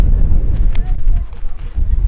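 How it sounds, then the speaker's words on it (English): Strong wind buffets the microphone in a steady low roar throughout, with faint indistinct voices underneath. "it's very windy today"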